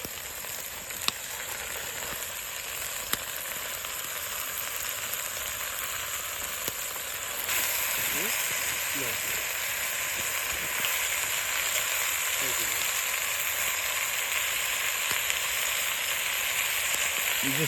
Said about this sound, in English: now that we've got the onions going, we're gonna brown the meat